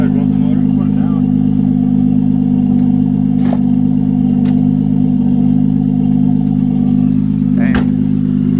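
A BMW E46 M3 with Euro headers and Valvetronic runs with a loud, steady, close-up engine drone and slight revving, while people talk over it throughout.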